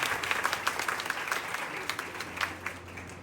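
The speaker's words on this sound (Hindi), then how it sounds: "जोरदार ताली से स्वागत हो।" An audience applauds at a Bihar police constable final selection felicitation ceremony as the chief guest arrives: dense, sustained clapping from many hands, fairly close and steady, with a faint low hum underneath.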